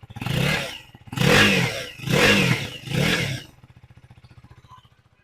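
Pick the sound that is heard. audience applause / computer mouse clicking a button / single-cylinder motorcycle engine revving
single-cylinder motorcycle engine revving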